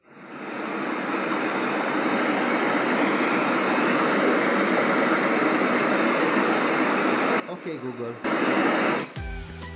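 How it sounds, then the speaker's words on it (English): River sound from a Google Home smart speaker: loud, dense, continuous rushing water noise filling the clip, breaking off near the end. "Here's the sound of a river."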